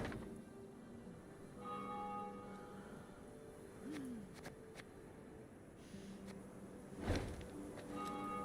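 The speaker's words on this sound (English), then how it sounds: "Travelling the high road, they heard the bells of a temple to Mother Melitele" Temple bells of Mother Melitele ring in the game Thronebreaker: The Witcher Tales, sounding as faint, distant chimes over a low ambient bed, with a brief louder strike near the end.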